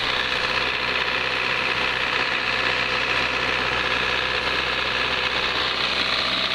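A Bobcat machine's engine idles with a steady, close, vibrating drone that holds unchanged from start to finish, with no talking over it.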